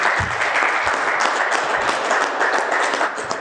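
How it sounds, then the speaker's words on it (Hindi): Steady applause from a group in a classroom, dense continuous clapping held at an even level throughout. "मैडम के लिए तालियां बजाइए।"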